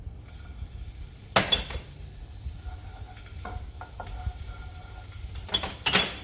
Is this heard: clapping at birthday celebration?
no